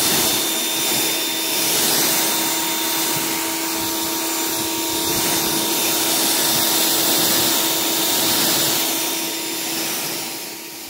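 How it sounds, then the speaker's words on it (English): High-pressure water rinse spraying over a coated car with hydrophobic side panels, a steady loud hissing roar that holds for the whole stretch with slight swells, no talking. "The high pressure rinse is the most important step when it comes to washing your vehicle"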